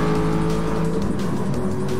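A Subaru race car sweeps past in GT Sport during an FIA Manufacturer's Cup race at Sardegna, its loud steady engine whine close and continuous, with other cars droning underneath.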